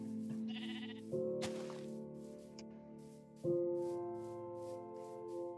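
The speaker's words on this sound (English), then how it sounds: "Any more sheep around here?" Sheep in the Minecraft video game bleat twice, with long, wavering, sustained cries close together, plus a brief rustle and a soft click between them.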